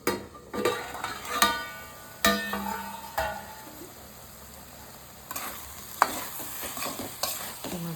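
Masala of onion and tomato sautéing in a pan while paneer bhurji is cooked, with a soft steady sizzle and intermittent scraping stirs and clinks, loudest at the start and again near the end, no voices.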